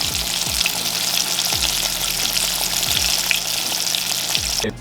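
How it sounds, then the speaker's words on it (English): Fish pieces fry in hot grease, a continuous bubbling sizzle with low thumps as pieces are moved or stirred, steady and close with no talking. "Not really sizzling the way I want, but that's all right."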